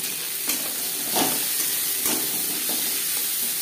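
Chopped onion and four slit green chillies fry in oil for a vegetable fish curry, giving a loud, steady, close sizzle with occasional soft bumps of stirring.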